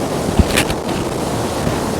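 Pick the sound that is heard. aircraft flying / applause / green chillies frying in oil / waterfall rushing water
waterfall rushing water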